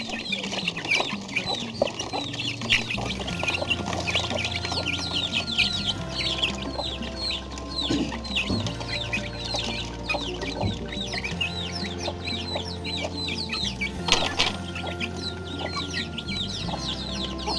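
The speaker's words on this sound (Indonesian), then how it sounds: "Saya punya ayam 14." A flock of about fourteen chickens on a small family farm cluck and call continuously, close and busy, with overlapping squawks and a rooster-like cry partway through and steady background noise.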